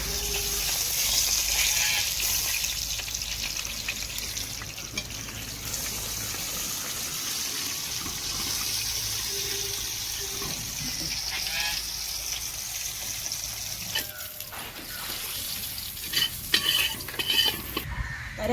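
Oil sizzles steadily as snakehead (varal) fish fries, with spoon stirring and scraping against the pan and a few clinks near the end.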